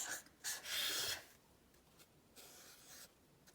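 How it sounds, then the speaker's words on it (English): A pen writes a short word on a label, producing close, scratchy strokes in bursts, loudest at first and then softer, with quiet pauses between. "So I'm going to have a go at writing foil."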